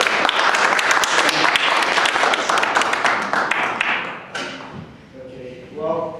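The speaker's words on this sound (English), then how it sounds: "another round of applause" Audience at a secular church service claps loudly in a dense burst that thins out and fades over several seconds, leaving a few scattered claps and faint voices behind.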